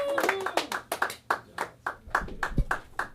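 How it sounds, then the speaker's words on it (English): Several sharp hand claps ring out in a quick, uneven rhythm at an open mic comedy show, fairly close, with a voice calling out briefly at the start. "Keep the claps going."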